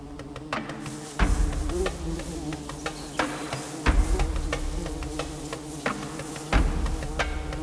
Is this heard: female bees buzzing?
yes